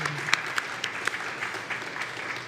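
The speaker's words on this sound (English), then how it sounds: "I want to give a round of applause to the head table." An audience at a public consultation on a geothermal well drilling project in Nevis applauds the head table with steady, moderately loud clapping, a few crisp nearby claps standing out.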